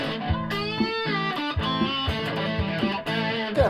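A Yamaha Pacifica 112 electric guitar in pickup position 2 with distortion plays sustained, harmonically rich chords and riffs, with rhythmic chord changes roughly every half second, loud and close with no talking.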